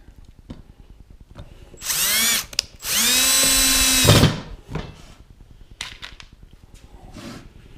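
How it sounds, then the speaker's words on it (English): Cordless power drill driving three screws into a wooden rail of a TrueTrac expandable track table kit, two loud whirring bursts that rise in pitch as each screw seats, then quiet shop noise. "So now we use the 3 screws and screw this down to here."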